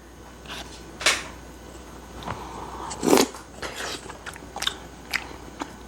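Someone eats black rosé tteokbokki with fried snacks, making scattered close-up bites and crunchy chewing sounds, one crisp crunch standing out, in a quiet room.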